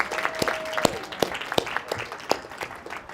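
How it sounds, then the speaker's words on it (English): An audience claps in a round of applause for yoga author Tara Stiles at an interview event, a burst of crisp, uneven hand claps that stays moderately loud throughout. "So let's give a big round of applause for Tara."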